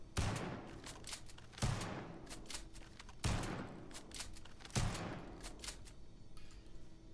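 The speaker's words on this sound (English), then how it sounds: "We're gonna do some shotgun shooting" Four evenly spaced shotgun blasts from the Valor Armaments Vas31, a Spaz 12-style weapon modded into Starfield, each a sharp boom trailing into a rattling decay, loud and close with no talk.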